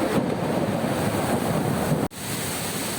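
Rushing river current at Mandala Falls in Doña Remedios Trinidad, Bulacan: a loud, steady broadband roar of fast water with wind buffeting the microphone and a brief dropout near the end, no voices.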